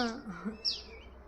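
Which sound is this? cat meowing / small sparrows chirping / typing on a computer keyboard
small sparrows chirping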